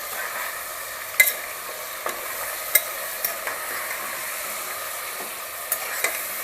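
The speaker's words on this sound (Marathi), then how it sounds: "गॅस कुकरमध्ये ना मटण चांगलं दोन तीन मिनटं चांगलं त्याचा कलर चेंज होईपर्यंत आपण चांगलं परतून घ्यायचं तेलावर" Mutton sautéed in oil inside a pressure cooker gives a soft, steady sizzle broken by occasional sharp scrapes and clicks of a spatula against the metal, close and without voices.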